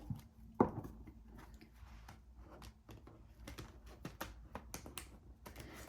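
Quick papery riffling and soft clicking as a deck of tarot cards is shuffled, with a sharp snap near the start, close and fairly quiet.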